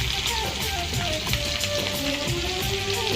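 Onions frying in hot oil in a kadai, a loud, steady crackling sizzle close by with faint stirring scrapes, no voice over it.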